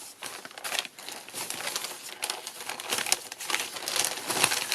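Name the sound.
scrap paper being handled and crumpled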